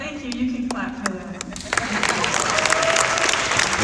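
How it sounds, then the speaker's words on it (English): An audience at a Native American presidential forum in Sioux City, Iowa, claps steadily, with the applause growing louder and fuller as it goes on, while a voice speaks over it. "You can clap for that."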